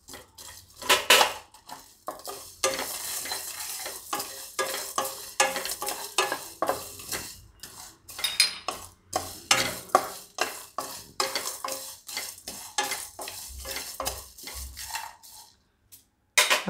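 Whole spices including cardamom and stone flower are stirred in a pan, a rapid series of close spoon scrapes and metallic clinks over a light sizzle, with brief pauses between bursts.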